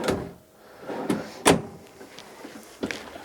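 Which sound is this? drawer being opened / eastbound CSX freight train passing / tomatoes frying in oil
drawer being opened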